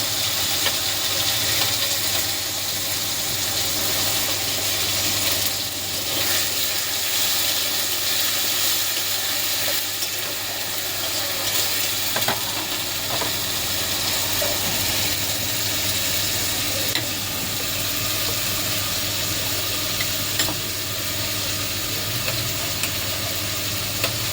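Onion paste fries in a pan for Kashmiri aloo dum, giving a steady, even sizzle with faint stirring scrapes throughout.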